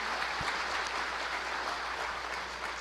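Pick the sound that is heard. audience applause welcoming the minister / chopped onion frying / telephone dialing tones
audience applause welcoming the minister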